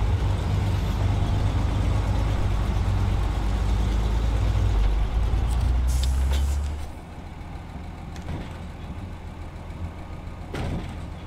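A Western Star truck in the video game SnowRunner rumbles with a steady, heavy diesel drone that drops off sharply partway through, leaving a quieter idle with a faint air hiss near the end.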